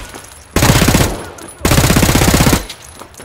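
Two loud, rapid bursts of fully automatic fire come from an MP7 submachine gun in the video game Escape from Tarkov, each lasting about a second with a short gap between them.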